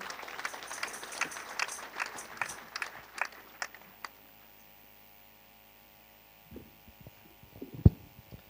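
Mourners at a burial gathering in Tala, Machakos County, clap in scattered, uneven bursts for about four seconds before the clapping dies away, leaving a low electrical hum and a few faint knocks.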